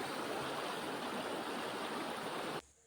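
A river fed by several mountain streams rushes past in a dense, steady roar of flowing water. It sounds close and even, then cuts off abruptly near the end.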